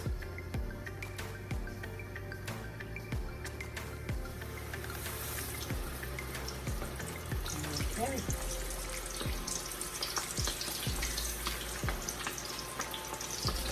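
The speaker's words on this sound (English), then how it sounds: "The grease is piping hot." Chicken fries in hot grease in a cast iron skillet, steady sizzling and crackling with scattered pops and some clattering over a constant hiss.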